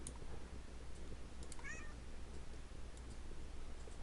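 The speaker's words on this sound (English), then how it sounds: "This cat's bothering me again." Cat gives a single short, faint meow partway through, heard over a steady background hum and hiss.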